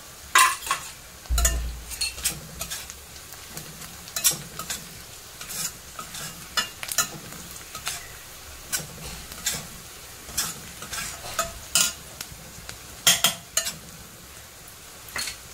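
Chopped onion and turmeric powder sauté in hot oil in a home kitchen, a soft sizzle running under repeated clinks and scrapes of a spoon stirring against the pan.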